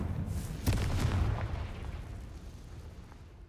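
A Confringo spell blast in Hogwarts Legacy bursts with a low, booming explosion that hits hard early, then rumbles and fades over a few seconds with no voices over it.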